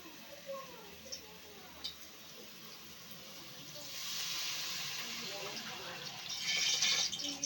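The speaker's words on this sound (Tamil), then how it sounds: "அடுத்தது புளி தண்ணி நம்ம கரைச்சி வச்சோம்ல அந்த தண்ணியை சேர்த்துக்கலாம்." Tamarind water pours into a pot of tomato rasam with a rising hissing splash in the second half, after quieter clinks and faint kitchen sounds.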